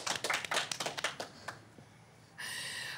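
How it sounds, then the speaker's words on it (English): A small audience at a dance festival claps after a dance performance: scattered, uneven individual claps over about two seconds that thin out, followed by a brief steady burst of broadband noise. "Let's give them another round of applause."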